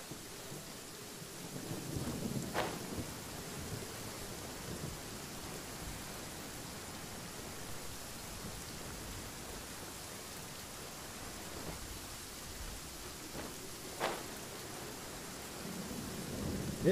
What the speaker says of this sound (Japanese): 雨降ってきたやんけど。